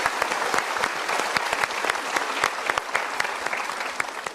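A studio audience at a televised motivational talk show in Indonesia claps briskly, with distinct sharp hand claps standing out over a continuous bed of applause and no speech.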